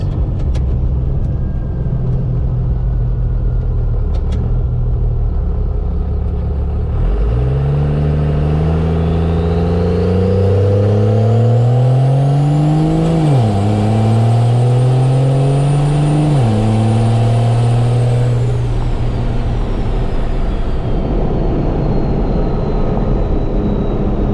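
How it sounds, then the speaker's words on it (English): A first-generation Cummins diesel truck accelerates mildly, the engine note climbing in pitch through several firm locked-up transmission shifts, each marked by a sudden drop in revs. Loud and close throughout, with steady road and wind noise after the pull eases. "This is going to be mild acceleration locked shifts."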